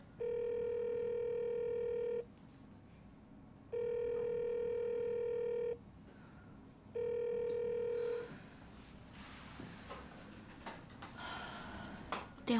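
A telephone rings three times in long, even bursts with pauses between, going unanswered, followed by quieter rustling and faint breathing-like noises in a room.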